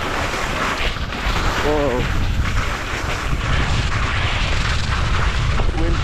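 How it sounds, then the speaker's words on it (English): Strong wind on Monarch Mountain during an early-season ski tour: a loud, steady roar buffeting the microphone throughout, with one brief exclaimed voice. "Wind's been blowing around up here."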